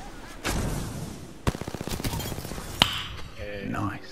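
Gunfire in the Apex Legends video game: a burst of rapid, evenly spaced shots rings out clearly, followed by a single sharp crack and then metallic pinging and clinking effects.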